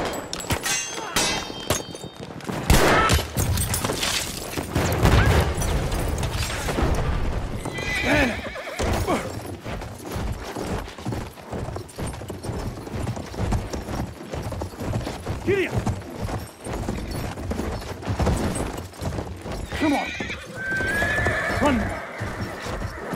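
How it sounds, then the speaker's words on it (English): Cavalry horses gallop in a war video game with a dense, close rush of clip-clopping hooves and repeated neighs and whinnies. Faint mechanical and distant battle noises sit underneath, and a few voices break in at times. "Enemy cavalry, all right."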